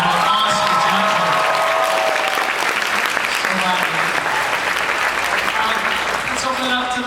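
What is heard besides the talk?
audience applause for Chris Carter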